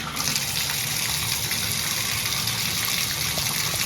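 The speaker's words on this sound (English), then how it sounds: "Decent water coming out of the tub flow." Water gushes steadily from a hotel bathtub tap in a family suite, a continuous loud, close rush filling the tub with no pauses and no voices over it.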